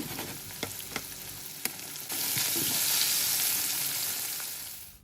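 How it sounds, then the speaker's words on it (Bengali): A second batch of sesame chicken drops into hot oil: a few sharp clinks, then a loud, dense hiss of deep frying that swells and holds steady close by, with no talk. "দ্বিতীয় ব্যাস ভেজে নিব এটাকেও আমি সত্তর আশি পার্সেন্টের মতো ভেজে নিব"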